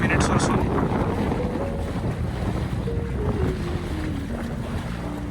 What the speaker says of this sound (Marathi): इथे आता या बोटला ही बोट पार होईल आहे